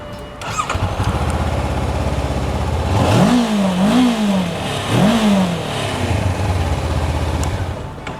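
A 500cc motorcycle engine idles, then revs up three times in quick blips that rise and fall, loud and close.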